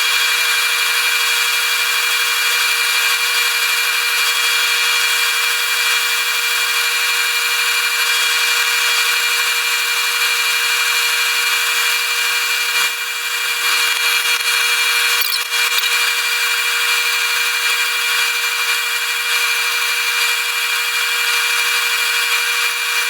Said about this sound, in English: We're going to go ahead and get some sanding done. I'm going to start with 120 just because this poplar is kind of soft.